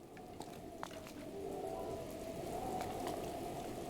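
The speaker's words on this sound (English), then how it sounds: "it's just regular rain now" Steady rain in Breath of the Wild, a soft continuous hiss that swells slightly partway through, with a few faint drop-like ticks and a low tonal hum underneath.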